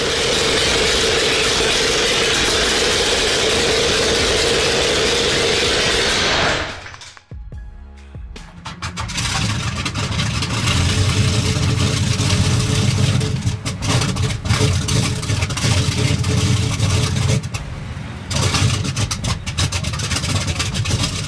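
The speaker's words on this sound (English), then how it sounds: "12 pistons ignite in perfect fury, and the Liberty V12 erupts with raw, commanding power" A big Liberty V12 aircraft engine starts, roaring loudly and steadily, then sputters and briefly drops before catching again and running on as a rough, continuous rumble.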